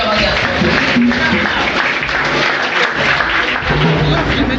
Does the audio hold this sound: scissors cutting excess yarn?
no